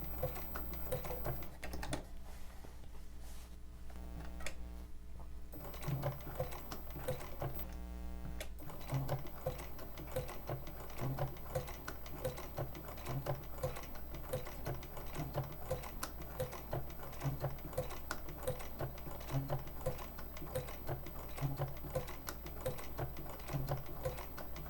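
A sewing machine stitches raw edge applique with a shortened stitch length, a fast, even clatter of needle strokes that runs continuously at low volume, with no voices.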